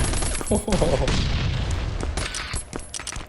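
Gunfire in the video game Last Island of Survival, a quick run of close shots and booms over a short stretch, with someone talking over it.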